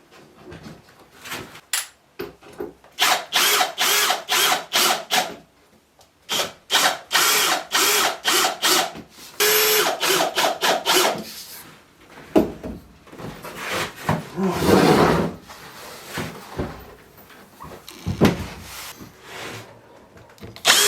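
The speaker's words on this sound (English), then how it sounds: "we'll pre-drill the holes, and then we'll proceed to add a bit of glue and screw it all together" A power drill whirs in repeated short bursts, driving screws into a wooden TV box, with pauses and some clattering between runs.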